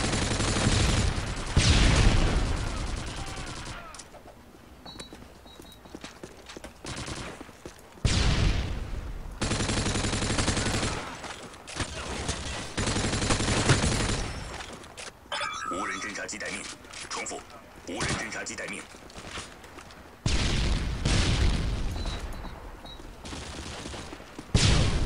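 Online Call of Duty gameplay with repeated bursts of automatic gunfire and weapon mechanism clatter, loud volleys alternating with quieter gaps across the stretch, while a player talks over parts of it.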